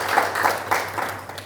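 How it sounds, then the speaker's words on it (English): An audience at a breakfast meeting with athletes in Iten applauds, a moderate, steady wash of many hands clapping together with no voices over it. "Let us give them a round of applause."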